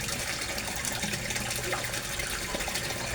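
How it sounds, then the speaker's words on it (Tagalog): Submersible water pump running in a koi fish pond, throwing up plenty of bubbles: a constant, loud, close rush of churning water that holds steady throughout. "i-flex ko ang water pulse ko, yung water pump ko, yung submersible pump ko"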